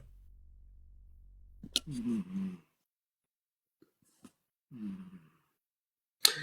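A person snores softly, giving two slow, low, rasping breaths a few seconds apart amid near silence, with a few faint clicks around them.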